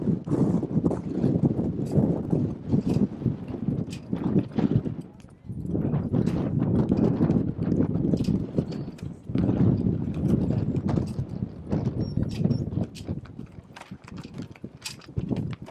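Wind buffets the microphone outdoors at a Perryville vs North County game, a steady low rumble with gusty surges and brief drops, loud throughout with faint voices and scattered thumps underneath.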